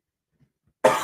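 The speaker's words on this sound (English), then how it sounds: "whoa, second cough come out of nowhere" A single sharp cough bursts out after near silence, loud and close, with a rough breathy tail and no other voices around it.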